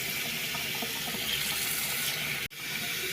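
Cold water runs steadily from an apartment tap, fed through a short stretch of pipe from a newly started gas boiler. The stream is a constant close hiss with a brief break near the end.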